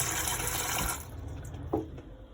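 Water runs from the hot and cold taps in an Elddis Majestic 115 caravan, a steady close hiss for about a second that then drops to a quieter trickle.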